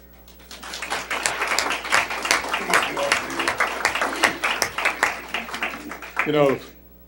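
An audience at a mayoral candidate forum breaks into a round of applause, many close, crisp hand claps building and holding for several seconds before a voice cuts in at the end.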